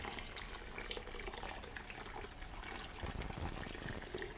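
Home-brewed wort poured slowly into a grain-bed mash for a lemon blueberry wheat beer, a faint, steady gushing stream of liquid that runs without a break.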